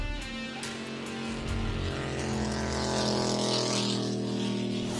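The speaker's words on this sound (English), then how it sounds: "These Mercury engines are screaming by as these boats hit speeds of almost 100 miles an hour" Offshore racing boats powered by Mercury engines scream past at close to 100 mph, a loud, sustained roar that swells and Doppler-shifts as they speed by, with no talking.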